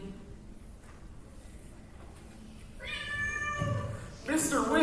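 A cat meows from inside a bag, several clear harmonic calls in the second half of the clip, growing louder toward the end, with people talking around it.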